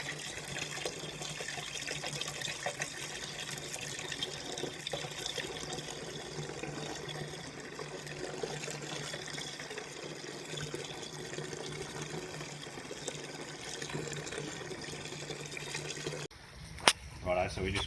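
Passionfruit beer wort pours from a boil kettle into a fermenter, a steady splashing, bubbling stream of liquid filling a vessel, close and continuous, ending with a brief clatter near the end.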